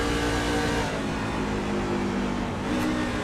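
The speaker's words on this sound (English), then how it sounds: "you hear him downshift to third, helping get that nose planted just right" Race truck engine in iRacing at Nashville, a steady loud drone with a brief dip and pitch shift near the end as the driver changes gear, continuous and close.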